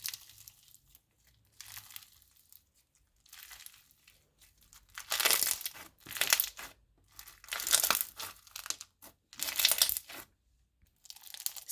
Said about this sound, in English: I just really like floams and crunchy slimes